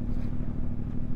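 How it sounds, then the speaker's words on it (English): A CFMoto 450MT adventure motorcycle on its stock exhaust gives a steady, low, throbbing rumble heard up close, with no speech. "I love the rumble of that exhaust. Even the stock exhaust."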